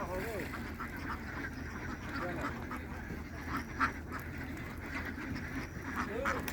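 A large farm flock of around 850 ducks quacks in a dense, continuous chatter, with a voice talking nearby over the birds.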